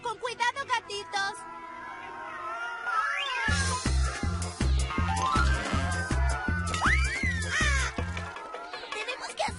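Cartoon kittens meowing and squealing in high, sliding cries over a loud, rhythmic music backing, with several overlapping mews bunched together.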